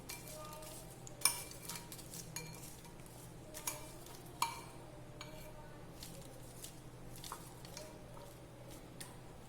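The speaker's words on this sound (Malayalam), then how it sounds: "നന്നായി മിക്സ് ചെയ്യുക." A spoon works through peanut masala fry in a pan, giving soft scraping stirs and scattered metallic clinks over a faint, steady sizzle. The sound is close and quiet, with no talking.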